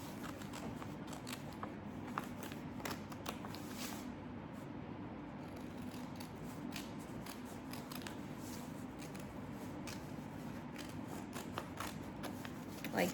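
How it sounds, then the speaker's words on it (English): Scissors snip through a few book pages at a time, cutting around a paper template, a steady run of soft crisp cuts and paper rustles, close and quiet throughout, with no one talking. "you're going to take a few pages at a time, kind of however many you can, cut through"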